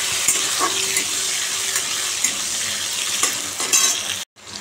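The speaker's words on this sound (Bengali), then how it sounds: "এই কাজু কিশমিশটা ছেড়ে দিলাম। এটা ভাজবো ভালো করে" Cashews and raisins fry in oil with panch phoron spices in a home kitchen pan. Loud, close sizzling is broken by stirring scrapes and light utensil clinks, with a brief cut near the end.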